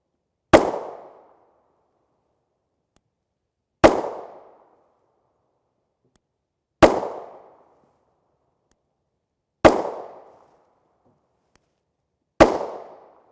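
Five sharp 9mm pistol shots from a 3-inch Springfield Hellcat firing 115-grain TMJ EcoBullet ammunition, evenly spaced about three seconds apart. Each loud crack decays quickly into silence.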